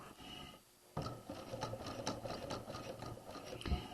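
A sewing machine stitches an elastic waistband casing on a skirt, starting after a brief pause and then running with a quiet, rapid ticking and clattering rhythm close by.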